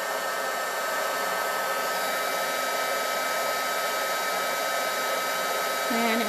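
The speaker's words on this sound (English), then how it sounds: "I'm going to take my heat gun" Heat gun blowing steadily on embossing powder over a silicone craft mat, a loud continuous whirring hiss with an even airflow roar that holds unchanged throughout, with no talking.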